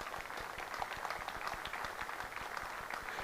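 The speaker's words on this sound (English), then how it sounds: "You should be clapping yourselves." An audience at an Amiga show claps steadily, a faint, even patter of many hands throughout with no voices on top.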